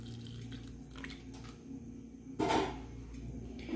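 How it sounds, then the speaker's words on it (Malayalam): Water is poured into a simmering fish-style curry made without fish. A faint splash swells briefly midway over a low background hum. "നമുക്കിതിലേക്ക് കുറച്ചുകൂടി വെള്ളം ഒഴിച്ചു കൊടുക്കാം."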